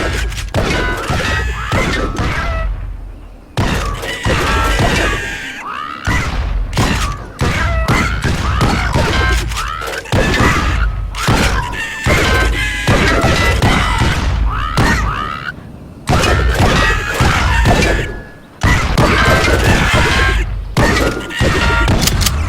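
Dense bursts of gunfire and booming bomb explosions from the mobile shooting game Cat Gun, loud and nearly continuous with rapid impacts and brief pauses, with no talk over them.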